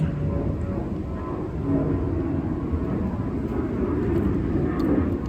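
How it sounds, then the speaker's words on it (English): An airplane passes overhead outdoors in Florida, a steady, loud, broad engine roar that holds for several seconds with no voices over it. "There goes an airplane."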